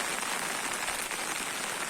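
A fresh rain shower pours down in a continuous close hiss of drops on surfaces, water running through nearby drainage channels; steady and unbroken, with no one speaking.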